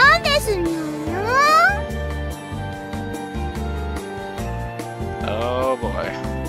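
Chocola, a cat girl in the video game Nekopara, lets out breathy, drawn-out meows in a girlish voice imitating a cat, set over steady background music with a second softer mew near the end.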